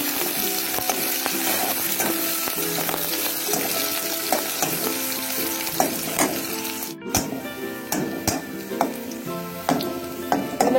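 Onions frying in soybean oil in a pan, a loud, dense continuous sizzle with crackling pops and occasional clinks of a utensil stirring against the pan, no voices.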